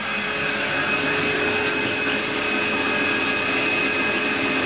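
A vacuum runs continuously with a steady, dense whooshing roar and a fixed whine, near and fairly loud throughout, pulling heated styrene down over a mold sealed with aluminum foil and damp wood.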